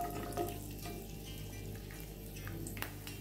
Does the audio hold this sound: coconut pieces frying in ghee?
yes